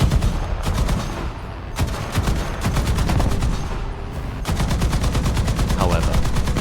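Aircraft machine guns in the War Thunder combat game fire in long, rapid bursts, loud and close, with short gaps between volleys and continuous engine drone underneath.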